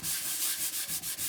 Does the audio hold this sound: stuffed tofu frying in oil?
no